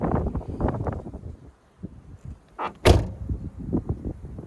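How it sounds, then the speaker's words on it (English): A car door slams shut once, sharp and loud, in gusty wind outside the vehicle, with rumbling wind buffeting the microphone before and after the impact. "Slightly louder inside the car than it is outside the car when you shut a door."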